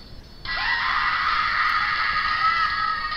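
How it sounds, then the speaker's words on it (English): A boss character in the video game Megaman Zero 2 lets out a loud, sustained, shrill scream that starts abruptly and holds for nearly three seconds without pause. "And that is one awesome blood-curdling scream."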